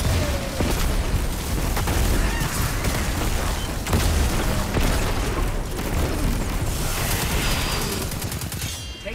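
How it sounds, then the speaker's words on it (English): A rocket explodes in Destiny 2 amid heavy combat, with repeated sharp booms and rapid gunfire bursts hammering close and loud for several seconds, then thinning out near the end. "Rocket."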